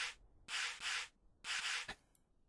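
Sanding in the Workshop Simulator game, heard as several brisk back-and-forth strokes of hissing abrasive friction, two quick passes, a pause, then two more, close up with soft clicks between them.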